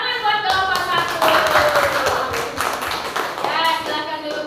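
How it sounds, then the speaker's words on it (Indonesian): Children clap together for a classroom group after a food-chain ecosystem lesson, brisk rhythmic clapping with a teacher's voice and tonal speech running over it. "Iya, tepuk tangan buat kelompok 1."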